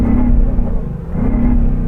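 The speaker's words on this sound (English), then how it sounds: "going to rev up this beautiful English-built V8" An English-built Land Rover Defender V8 revs close by, a deep rumbling growl that dips briefly near the middle and then climbs again to a steady held note, with no voices over it.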